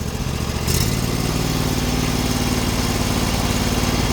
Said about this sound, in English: 258 hours on this engine only. Low hours. Still runs nice.